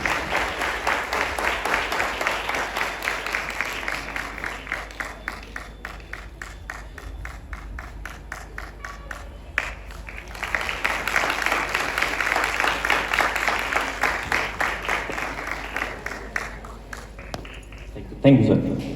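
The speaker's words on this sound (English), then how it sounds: "First, let us clap for them" An audience claps at a school Republic Day event, a steady patter of many hands that swells and fades across the stretch, mixed with people talking.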